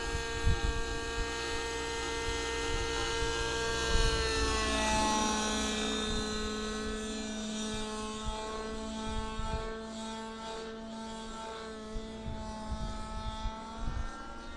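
A model airplane engine runs steadily under carburetor tuning, unloaded at mid-throttle, its strong whining harmonic drone holding a near-constant pitch with slight wavering, loud and close throughout with no talk.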